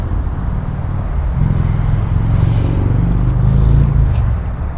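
Downtown Los Angeles Arts District traffic rumbles steadily and close by, a dense low engine drone with cars passing and swelling slightly louder toward the end.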